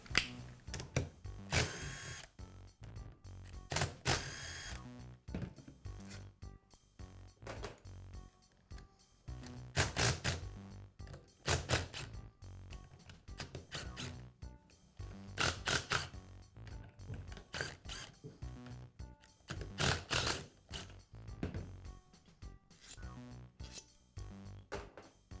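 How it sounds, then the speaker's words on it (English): Bolts being removed from a red Karcher pressure washer pump under spring tension, with a series of metallic clinks, taps and tool rattles in uneven bursts, close and fairly loud, with no talking. "So first I'll remove 2 bolts and then remove the other 2 slowly."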